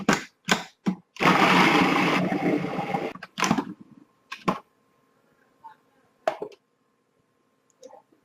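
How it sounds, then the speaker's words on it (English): A food processor chops onion in a loud whirring burst lasting about two seconds, set between sharp clicks and knocks from the lid and bowl, with quiet gaps in between. "And we can throw in our onion. And we'll process again."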